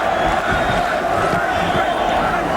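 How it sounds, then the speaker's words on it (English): An arena crowd at a heavyweight boxing match between Mike Tyson and James Tillis shouts and roars continuously, a loud, dense mass of voices urging on the fighter, heard close and without a break. "Now the crowd begins to implore Tyson"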